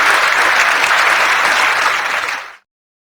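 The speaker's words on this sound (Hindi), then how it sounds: "पूरा चौपाल तालियों की गड़गड़ाहट से गूंज उठा।" Loud, dense applause from a crowd at a village chaupal gathering rings out steadily, then cuts off abruptly into silence.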